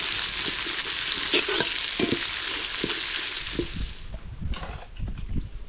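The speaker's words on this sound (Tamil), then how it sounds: "வெங்காயம், இது எல்லாத்தையும் சேர்த்து நல்லா வதக்கி விட்டுடலாம்" Chopped onions and chillies sizzle and fry steadily in a hot pan for a wedding-anniversary meat feast, a loud continuous hiss with scraping stirs throughout that quietens toward the end.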